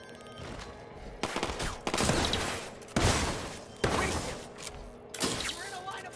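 Gunfire in the video game Watch Dogs 2, bursts of rapid shots and crackling volleys every second or so over a steady background roar, moderately loud, with a voice speaking now and then.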